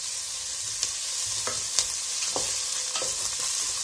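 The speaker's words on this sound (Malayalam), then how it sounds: "ഇതൊന്ന് സോട്ടായി വരട്ടെ." Onion, crushed ginger and crushed garlic sautéing in a hot pan for a Kerala-style vegetable curry, with a steady close sizzle broken by several sharp scrapes and clinks of a spoon stirring against the pan.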